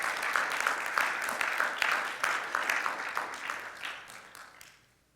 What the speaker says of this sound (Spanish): ¿Puede darle un fuerte aplauso al Señor?